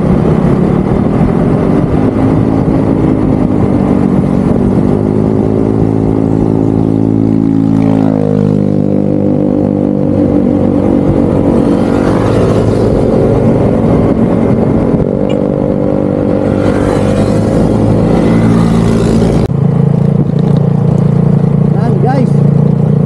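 A Honda ADV175 scooter engine drones continuously up close on a rough road, its pitch rising and falling as it speeds up and slows, with some wind and road noise.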